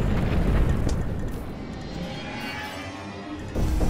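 Cannon shots explode in the video game Cannon Brawl, a rumbling, booming blast that fades out over a few seconds before another burst starts at the end.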